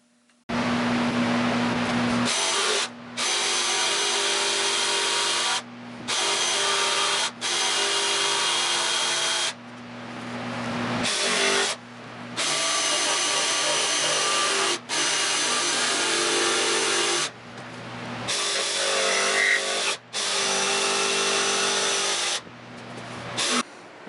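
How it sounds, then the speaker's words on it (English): A bandsaw cuts out wooden parts for a fishing rod holder in a workshop. The loud, steady motor whine runs through repeated cutting passes separated by short gaps, close to the microphone, with no talking. "I'm just going to take this to the bandsaw and start getting all these out"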